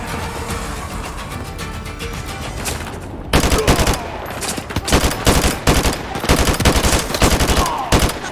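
Rapid automatic rifle fire in Call of Duty: Modern Warfare 2, loud and dense, starting as a steady stream, then after a brief gap returning in harder, punchy bursts with no talking.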